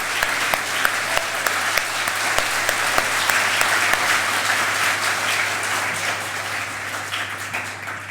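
A church congregation claps together in praise during a 30th-anniversary thanksgiving service at a Korean church in Shanghai, a steady, dense wash of applause that holds for the whole stretch and eases slightly toward the end.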